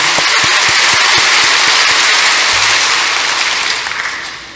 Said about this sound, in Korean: 오늘 또 여러분의 박수를 받으니까 마음에 기쁩니다.